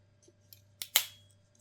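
Two quick metallic snips close together, a sharp click followed by a brighter cut that rings briefly, over a low steady hum.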